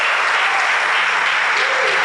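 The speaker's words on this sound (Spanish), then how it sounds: "Denle un aplauso." Church congregation applauding during an evangelical service, a dense, steady wash of clapping that fills the whole moment at close range, with a few voices mixed in.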